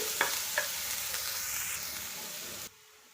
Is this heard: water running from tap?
no